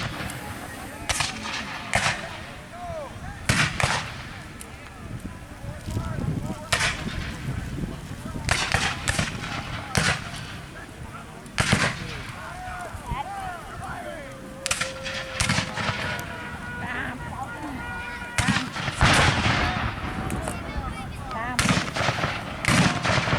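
Civil War battle reenactment at a Jackson muster, with repeated bursts of rifle volleys and booming artillery rolling across an open field, shots ringing out at irregular intervals at mid-distance over faint crowd voices.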